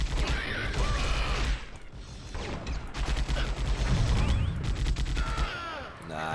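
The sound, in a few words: auto gun firing in a video game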